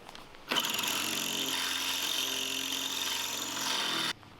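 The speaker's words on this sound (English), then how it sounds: "Let's get these drilled out." A power drill whines steadily into a hardened metal screw on a camper trailer for about three and a half seconds, starting abruptly and cutting off sharply at the end.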